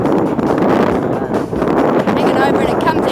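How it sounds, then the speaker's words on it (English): Strong gusty side wind buffets the microphone on a desert road, a loud continuous roar with surging gusts throughout. "The wind is absolutely hammering, and we are really struggling on the road. It's a big, strong side wind"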